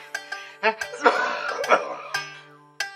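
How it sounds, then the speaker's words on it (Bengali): A man coughs several times in a rough, hacking fit during a tense domestic quarrel, the bursts close and loud with voices speaking between them. "এরকম উত্তেজনা হলি পারেই তোমার কাশি উঠে যাচ্ছে"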